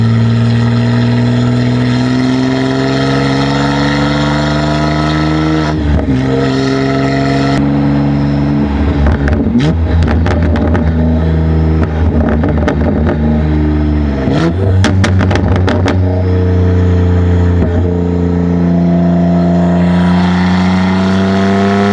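BMW M3 G80 with an IRL 4-inch modular midpipe exhaust, idling loudly close by, then blipping into several sharp revs with crackles before settling back to a deep, steady idle.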